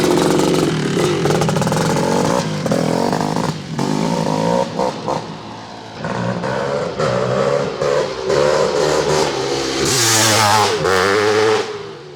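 A KPR Racing Kawasaki KX500 dirt bike engine revs hard and loud and close up, the pitch swelling and dropping through repeated throttle blips with a strong harmonic drone that holds across the whole stretch.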